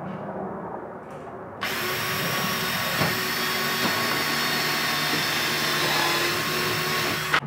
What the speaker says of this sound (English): we're going to drill and rivet into that mirror bracket.